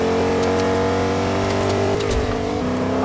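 A Lamborghini's engine revs in Fortnite Battle Royale, a steady, loud, close roar that dips and climbs slightly in pitch, with faint clicks and game sounds over it.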